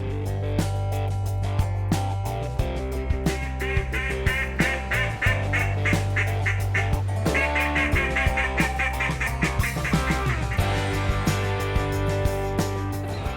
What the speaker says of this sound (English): or learning how to blow a duck call.